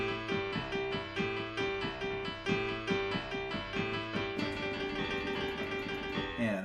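Piano playing honky tonk thirds in G as a slow trill over a steady bass, bright repeated chords in a bouncy rhythm, close and clear with no talking.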